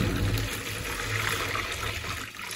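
Clean water pours steadily into a container for soaking orchids, a continuous close trickle and gush that runs without a break.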